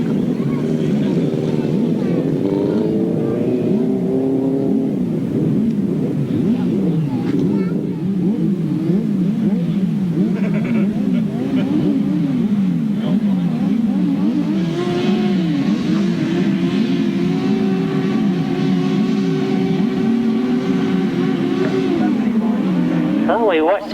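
Sidecar outfits racing on a 1992 grasstrack at the Battle of Hastings meeting, engines droning and revving loudly and continuously with rising and falling pitch as machines pass, under a commentator's voice.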